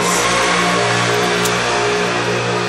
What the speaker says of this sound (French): c'est la seule moto qui passe en période de confinement dans ma rue